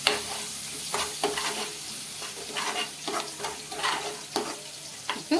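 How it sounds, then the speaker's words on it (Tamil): Ginger garlic paste sizzles and fries in a pan for crab gravy, with repeated scraping stirs of a spoon over a steady, soft sizzle. "அதையும் சேர்த்து நல்லா வதக்கி விட்டுருங்க."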